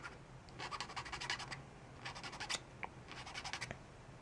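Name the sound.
sanding a custom LEGO rifle piece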